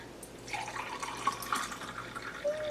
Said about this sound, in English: And let's strain.